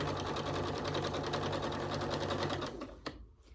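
A domestic sewing machine stitches along the edge of a quilt, a steady fast mechanical whir with rhythmic needle clatter that slows and stops near the end.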